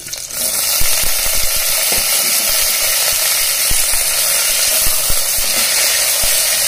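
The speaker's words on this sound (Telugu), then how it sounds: "ఇవన్నీ వేసాక లో ఫ్లేమ్లోనే కాసేపు వేయించుకోవాలండి" Cumin, onions and green chilies frying in hot oil in a pan over low flame, a loud steady sizzle with occasional soft stirring clicks, close up and without speech.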